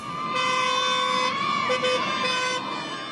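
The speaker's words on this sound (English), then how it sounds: "Every day, hoots and honks fill the air" Car horns honk repeatedly, long sustained blasts with a few short toots, loud and close over steady traffic noise.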